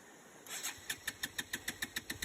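A motorcycle that has been partly submerged is being started; after a rough crank the engine catches into a sputtering, rhythmic putter of about a dozen evenly spaced pulses, near and moderately loud.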